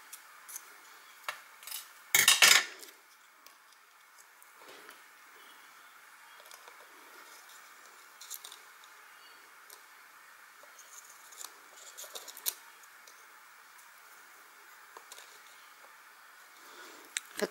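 Scissors snipping away excess craft material, a short burst of sharp cutting near the start followed by sparse, faint clicks and handling rustles in a quiet room.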